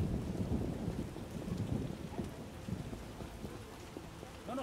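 Heavy rain pouring down in The Witcher video game, a dense continuous wash of drops with deep rumbling underneath, steady and fairly loud.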